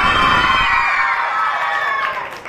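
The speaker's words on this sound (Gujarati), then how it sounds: "એમને માટે ફરીથી તાળીઓ" Schoolchildren at a primary school quiz cheer and shout for a winner, a loud burst of young voices that fades slightly over a couple of seconds.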